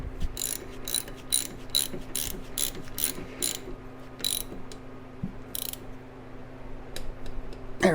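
Ratcheting clicks and mechanical cranking while an accessory belt on a C3 Corvette engine is tightened, a steady run of close, crisp ratchet strokes over a low background hum, with no talking.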